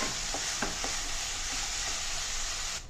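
Chicken stirred in a pan over full flame for a Kerala-style stew, giving a steady, close sizzle with a few scraping stir strokes and no talking.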